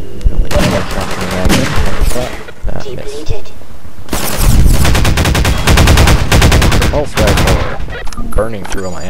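Rapid bursts of gunfire in the video game Half-Life 2: Episode, loud and dense, with sustained automatic volleys and a brief lull before a second heavy barrage; a voice speaks intermittently underneath.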